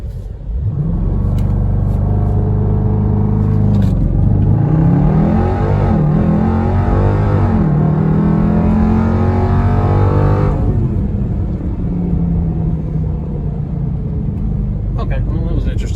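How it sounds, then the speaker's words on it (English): A Dodge Durango SRT launching hard in track mode with launch control and traction control off, its engine roaring up through rising revs and gear changes, loud and close from the cabin, with voices heard over it. "Traction control off, activate launch control."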